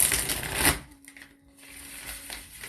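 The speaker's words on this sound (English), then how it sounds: "Shuffle the cards." A deck of tarot cards is shuffled: a brisk, close riffle burst opens, then it drops to soft, scattered card handling against a quiet room with a faint hum.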